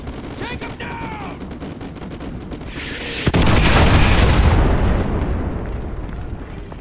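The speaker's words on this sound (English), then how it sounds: "Ramirez, call artillery on the enemy vehicles." An artillery strike lands on enemy vehicles in Call of Duty Modern Warfare 2, with scattered gunfire and radio chatter giving way to a sudden loud blast and a long roaring, crackling rumble of explosions.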